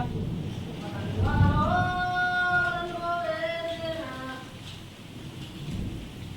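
Steady rain hisses outside a house window, a low continuous wash, while a voice rises and falls briefly over it partway through.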